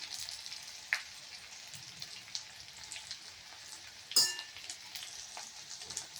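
Frying vegetables with curry leaves, chili powder and turmeric powder sizzle softly in a pan for a South Indian poriyal, with scattered faint stirring scrapes and one sharper clatter near the end, no voices.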